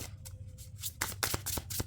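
Tarot cards shuffled by hand at close range, a quiet riffling flutter in a few short bursts followed by quick rapid flicks as cards are drawn.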